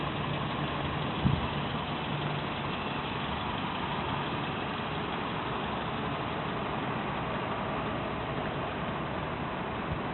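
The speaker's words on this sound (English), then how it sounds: "The car is running. You can hear engine working." A 2003 Toyota Echo sedan with hail damage idles steadily, a constant low engine drone with one brief knock early on and no talking.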